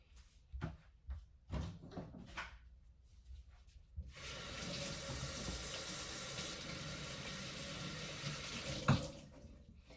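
Tap water runs into a kitchen sink as hands are washed while bread rolls are made, a steady hissing flow preceded by a few clunks and knocks and ending with a brief bump.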